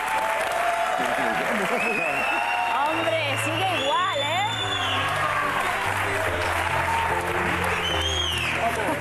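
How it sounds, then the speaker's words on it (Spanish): A studio audience at a televised reunion show claps loudly for an arriving guest, steady applause with some cheering while a voice talks over it. "Quiero que recibamos con un fuerte aplauso a Miguel Nández"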